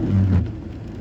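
Heavy rain drums on a moving car with the wipers running, a dense low rumble and wash lasting about a second with no talk.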